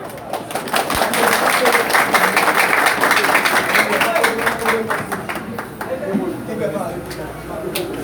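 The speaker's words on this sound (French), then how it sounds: "sous vos applaudissements" A crowd applauds warmly, with dense, steady clapping that carries on for several seconds before easing slightly toward the end.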